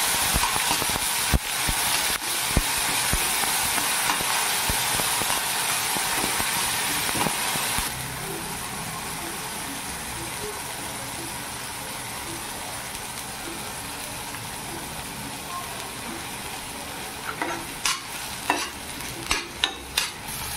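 Onion and tomato fry in a pan with spices for a mixed vegetable bhaji, a continuous sizzle with scraping stirs; the frying quiets partway through and is followed by several sharp clicks and knocks of utensils.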